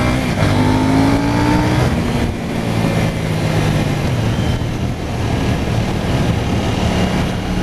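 A KTM Duke 790 motorcycle engine revs loudly while riding in street mode, with a steady, close engine roar, rising and falling pitch as the throttle shifts, and wind noise, without speech.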